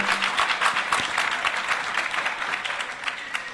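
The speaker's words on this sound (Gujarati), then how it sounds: "ખૂબ ખૂબ તાળીઓથી આપણે વધાવીએ" A crowd at a religious katha gathering claps warmly, a dense burst of applause that stays close and steady for a few seconds.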